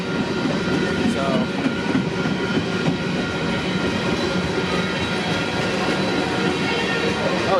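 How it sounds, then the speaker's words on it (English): Mixed freight train passing close by on a smoky day, a loud continuous rumble of rolling wagons with clattering wheels and faint metallic squeals, steady throughout. "I don't know where this mixed freight came from, but 421 is here now."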